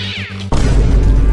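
A hungry cartoon cat gives a short, high, wavering meow, then a sudden loud, dense crash bursts in and keeps roaring to the end.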